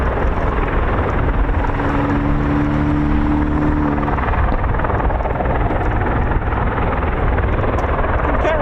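A CV-22 Osprey tiltrotor aircraft with Rolls-Royce T406 turboshaft engines, a loud, continuous rotor roar and dense engine rumble that stays steady and near throughout.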